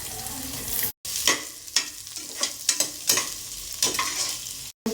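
Thinly sliced onions frying in a pan with cloves, cardamom and a cinnamon stick, a loud close sizzle broken by repeated stirring scrapes, with two brief silent gaps.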